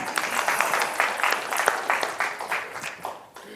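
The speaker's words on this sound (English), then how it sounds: "You can clap to that." Audience applause breaks out at a talk on economic development and community engagement, a steady wash of many hands clapping for a few seconds, moderately loud, then fading slightly at the end.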